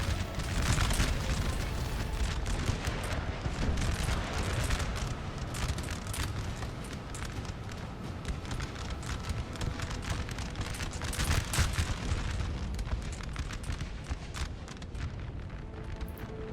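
Dense, continuous battlefield din of massed musket volleys and booming artillery in Napoleon: Total War, a steady wash of crackling shots and rumbles with no pauses throughout.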